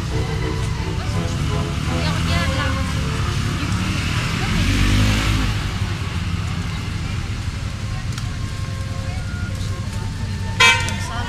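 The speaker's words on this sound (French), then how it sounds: "C'est la circulation." Busy street traffic in Crete rumbles past with engine drone and a short car horn toot near the end, while people talk nearby over the constant noise.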